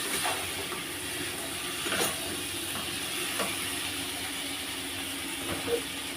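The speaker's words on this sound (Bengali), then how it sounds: "এবার দিয়ে আবার একটু আমি নেড়ে নেবো" Kashmiri chilli powder and spices are stirred in a pan over a faint, steady frying hiss, with a few soft spatula scrapes and taps at uneven intervals.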